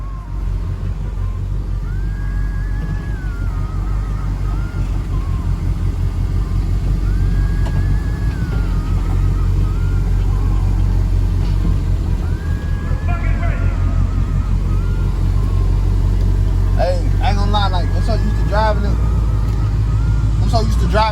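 A Cutlass Delta car engine idles steadily after a cold start following weeks of sitting, a deep, constant rumble close by while someone talks over it and faint beeps sound near the end.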